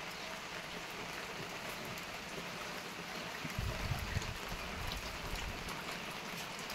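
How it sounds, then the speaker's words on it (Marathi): Steady, soft patter of light monsoon drizzle falling continuously, with a brief low rumble partway through and no voices. "आता पण चालू आहे मित्रांनो पाऊस"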